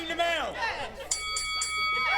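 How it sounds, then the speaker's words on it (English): Three quick, bright rings of the opening bell at a wrestling match, sounding in a row after a commentator's voice and ringing briefly over faint crowd chatter. "And there's our opening bell."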